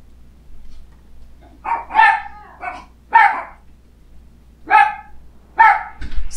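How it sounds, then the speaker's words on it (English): A dog barks in the Life is Strange video game, six separate yelping barks in an irregular sequence, loud and close over a faint low hum, with no talk. "Stop barking."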